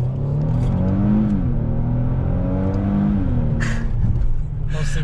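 Mercedes C250 with a DEVTEC Stage 2 tune accelerating, its engine note rising and falling through revs as a loud, close, continuous roar from inside or near the car, with no talking.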